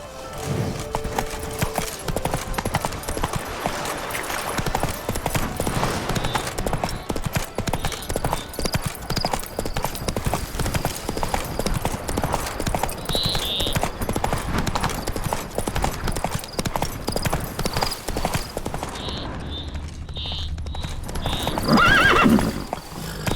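Geralt's horse Roach from The Witcher 3 gallops in an insistent, rapid clip-clop rhythm of hooves, loud and close for most of the stretch, with snorts and a whinny mixed in and brief voices near the end.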